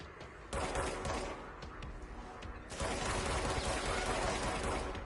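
Gunfire in the video game Control, a dense burst of shots and crackling impacts that rises sharply partway through and stays loud and continuous.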